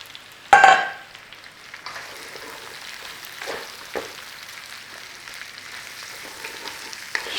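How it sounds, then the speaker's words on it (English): Cabbage stir-fried in a hot pan for a beef and black bean stir fry: a loud sizzling burst as it hits the oil, then a steady crackling fry broken by occasional scrapes and tosses, with no talking. "Start to stir fry that cabbage"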